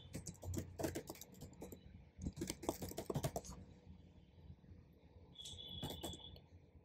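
Code is typed on a computer keyboard in quick clusters of close, crisp key clicks, separated by short pauses and set over a faint background hum.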